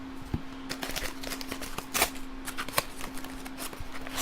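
Scissors snip and crunch through thick packing tape sealing a mailed package, a series of short, close, dry cutting and crinkling bursts with no talk.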